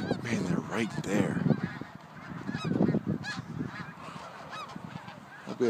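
Snow geese honk in a noisy flock in Pennsylvania, a dense, overlapping chorus of calls that stays loud and close throughout, with a voice briefly heard underneath.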